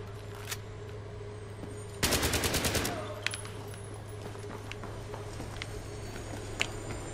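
Machine gun fire in Battlefield 3, one loud rapid burst of about a second near the middle, with scattered distant shots against a steady background hum.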